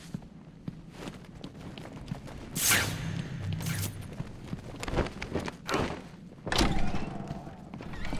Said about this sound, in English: Sounds like he's taking a beating